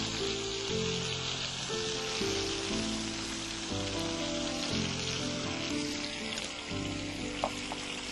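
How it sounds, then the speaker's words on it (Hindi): Stir-frying in a hot pan with salt, chili sauce and vinegar gives a loud, steady, dense sizzle throughout, with a melody playing underneath. "और इसको अच्छी तरह से भूनेंगे"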